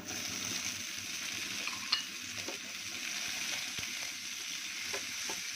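Chopped onions and tomatoes frying together in a pan for aloo paratha masala: a soft, continuous sizzle with scattered small clicks and scrapes of stirring, fairly quiet and close, with no voices.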